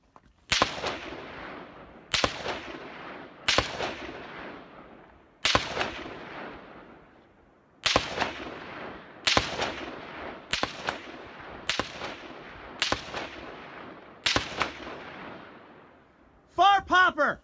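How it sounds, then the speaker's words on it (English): A series of sharp, loud gunshot cracks passing close overhead at irregular intervals, each followed by a fading echo, with a burst of rapid shots at the end. "Gunfire that's a lot closer coming overhead"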